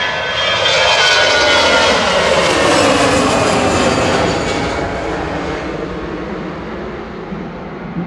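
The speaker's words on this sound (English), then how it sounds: "EasyJet to Faro OE IJA A320 Classic with flight" An easyJet Airbus A320 Classic, registration OE-IJA, on flight 7502 to Faro at Manchester Airport, produces a loud, steady jet roar that stays close and then slowly fades over several seconds.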